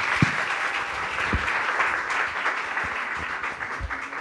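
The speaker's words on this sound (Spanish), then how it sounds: "Démosles un fuerte aplauso a los invitados que tenemos aquí esta tarde." Audience applause for guests at a panel discussion on media and polarization: a dense, sustained wash of clapping at steady moderate volume, with a few sharper claps standing out and no talk.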